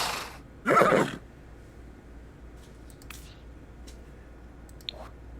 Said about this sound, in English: Let's make him an Australian stock horse